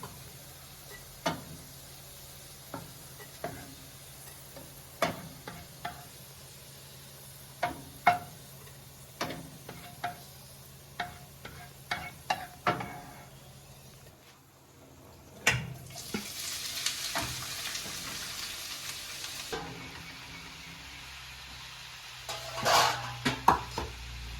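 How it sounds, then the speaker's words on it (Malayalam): Onions frying in hot oil in a pan for Kerala-style chicken chukka, with a soft sizzle underneath and a spoon tapping and scraping the pan every second or so, followed by a longer stretch of louder hissing. "ഉള്ളി ഫ്രൈ ആയിട്ടുണ്ട്."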